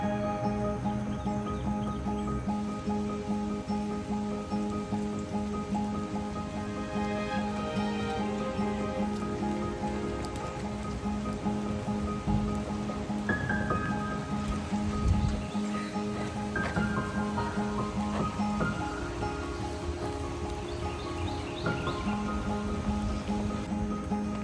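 Steady rain falls throughout, a dense continuous patter on surfaces with a constant hiss, with a few scattered louder drips and rustles but no talking.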